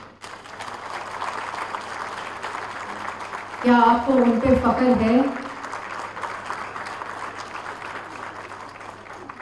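An audience at a government ceremony in Punjab applauds in a short burst of about a second and a half, with a speaker's amplified voice talking before and after it.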